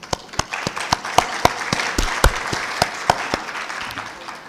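Audience applause at an advocacy workshop in Nairobi, a modest crowd clapping with distinct individual claps standing out sharply over a steady patter, fairly close and lasting a few seconds without speech.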